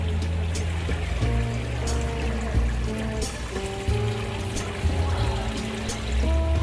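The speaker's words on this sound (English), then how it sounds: "these water fountains are so cool." Decorative water fountains splash and pour steadily at an outdoor art fair, a continuous watery rush mixed with crowd and background music.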